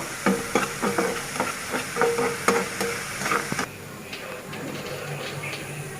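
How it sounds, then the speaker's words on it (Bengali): Radish greens fry in a pan on low heat while a spoon stirs them, with an irregular run of loud scraping strokes over a steady sizzle. The stirring stops partway through and only a quieter sizzle continues. "কম জালে আস্তে আস্তে আমি শাকটা এভাবে ভেজে নেব।"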